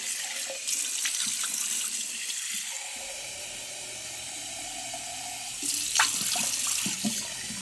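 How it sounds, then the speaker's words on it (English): Water runs from a tap while something is rinsed under it in a sink, a steady close splashing hiss that thins in the middle and grows louder and more broken again near the end; no one speaks. "I'm going to rinse this."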